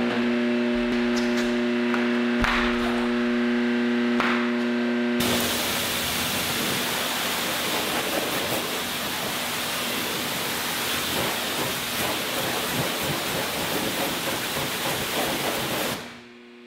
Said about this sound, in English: I'm gonna fire up this pressure washer.